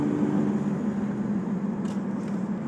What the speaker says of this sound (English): If you've heard the engine, then you've just heard me shift in the second.